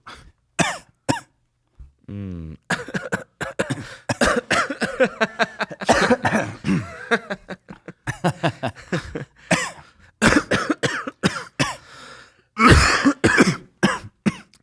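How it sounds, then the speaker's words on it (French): Several people cough on purpose as a joke, a rapid string of harsh bursts broken by short pauses, with a few louder coughs near the end and a brief tonal voice sound. "les gens discutent en faisant des toux et font des blagues en toussant"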